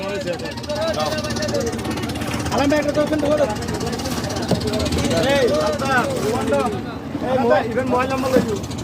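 A motorboat engine drones steadily as the boat pulls away from a river ghat near Jaflong, Sylhet, with people talking loudly over the constant low rumble throughout.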